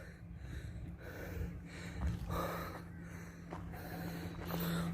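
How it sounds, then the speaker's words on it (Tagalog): Heavy panting after a steep uphill hike on a mountain trail, faint rhythmic breaths and puffs close to the microphone over a low steady hum, with no speech. "So, when hingal is real."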